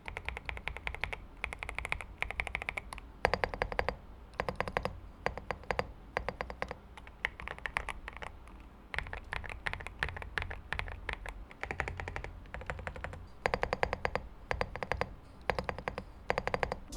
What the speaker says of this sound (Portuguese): E de todos os teclados que eu vi, ele teve o som mais agradável pra mim